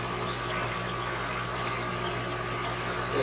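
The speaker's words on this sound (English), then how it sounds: "you can hear and you can see the water running down this inside there, so you know that the siphon is going" Water runs through a siphon tube into a central aquarium sump, a steady trickling rush over a low pump-like hum, constant and close, with no talking.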